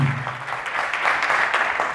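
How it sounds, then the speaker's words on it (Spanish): Applause from a conference audience welcoming a speaker at a security talk, a steady dense wash of clapping lasting the whole stretch with a faint voice early on. "le pido un fuerte aplauso por recibir"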